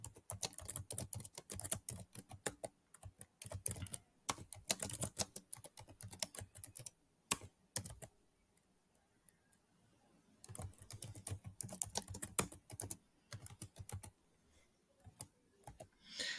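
Someone types an address into a company registration form on a computer keyboard, in quick bursts of clicking keystrokes separated by short pauses, close and fairly quiet with no talking.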